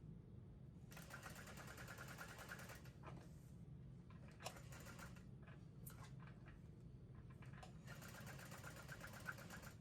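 A sewing machine top stitches a handbag in faint, close bursts of rapid stitching with brief pauses and quieter stretches between them, over a low steady hum.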